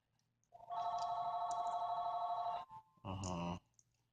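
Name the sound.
phone ringing with an incoming call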